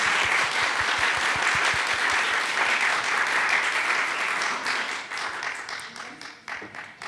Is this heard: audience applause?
yes